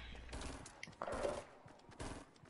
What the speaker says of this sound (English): Where are we getting shot from at?